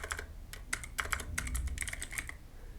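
Someone types on a computer keyboard, a quick irregular run of crisp clicking keystrokes close by and clear, with a few brief pauses between bursts.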